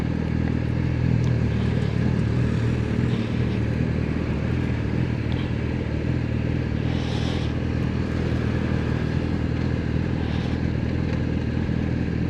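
Steady broadband engine drone from a Yamaha R6 or Kawasaki ZX6R sport bike while riding, loud and continuous with a constant rumble and wind roar, no voices.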